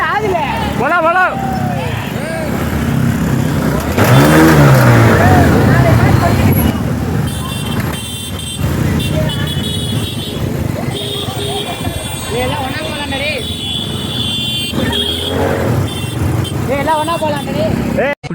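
A motorbike starts up and rides off among friends on an evening outing, its engine buzzing loudly and continuously with passing road traffic around and voices talking throughout.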